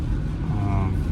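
A minivan cruising on highway US 1, heard from inside as a steady low engine and road rumble, continuous and close.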